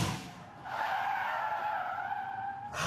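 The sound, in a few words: car braking hard with tires skidding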